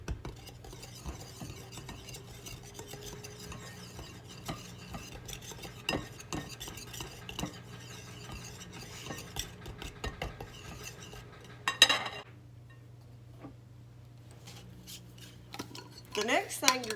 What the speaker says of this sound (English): I'm going to use my pastry blender to just mix in my flour and get all the little lumps out.